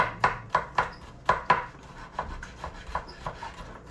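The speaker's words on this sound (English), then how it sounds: "I'm just gonna give them one more chop. Yeah, you can make those small like this. Little pieces of green onion." A knife chops green onion into small pieces on a board: a close run of about a dozen crisp, quick chops in an uneven rhythm, with no voices.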